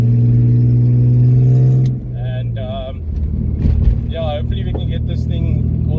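A car engine runs steadily up close, a low constant drone that dips briefly before settling back, with a person talking over it for most of the stretch.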